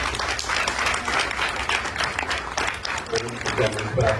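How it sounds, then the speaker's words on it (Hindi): Loud, sustained audience applause rings out in a theatre to welcome a guest, dense crowd clapping throughout with a voice talking over it. "मैं चाहूंगा जोरदार तालियों से उनका अभिनंदन किया जाए"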